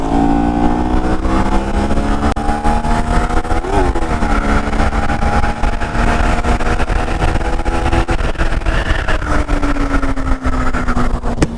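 Kawasaki Z400 motorcycle engine pulling hard in third gear, a loud steady drone with rising harmonic pitch that briefly dips near four seconds and again near eight, continuous throughout with no talking.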